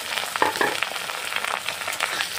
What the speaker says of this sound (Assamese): পিঁয়াজ নহৰুখিনি ভাজি ল'লোঁ